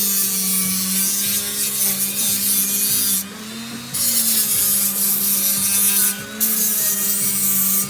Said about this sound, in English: I go over it one more time with the finer grit.